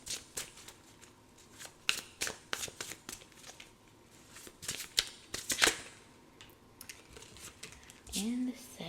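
Tarot cards shuffled and drawn from a deck for a reading: a run of crisp riffling flicks and slaps at close range, with a brief soft voice near the end.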